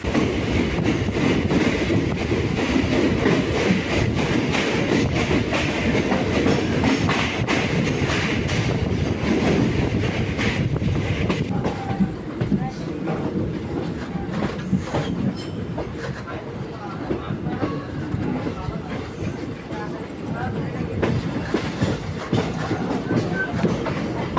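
The Allepey Superfast Express travelling from Alappuzha to Chennai, heard from aboard as a loud, continuous rumble and rattling clatter with wind buffeting the microphone, easing slightly in the second half.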